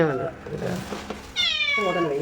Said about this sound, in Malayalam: പൂച്ചകൾ ബഹളം ഉണ്ടാക്കിയപ്പോൾ